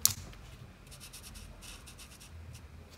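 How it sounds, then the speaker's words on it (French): A colored pencil scratches crimson onto a drawing of a Fortnite character in short, faint strokes, repeated soft rubbing close by with no voices. "Le petit triangle ici, on va colorier avec la couleur cramoisie."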